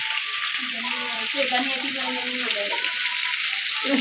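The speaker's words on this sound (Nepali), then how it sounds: "मासु फ्राई भइरहेको" Meat fries in a pan at home, a loud, continuous sizzle and crackle that lasts throughout, with faint background voices in the distance.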